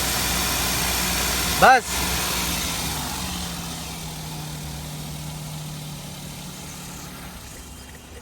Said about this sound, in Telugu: थोड़ा एक्सेलेटर दबाओ.